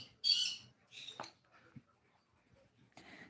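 Pet birds squawking indoors: a loud, sharp squawk up close, then a few shorter squawks and chirps spaced over a few seconds, with quiet gaps between.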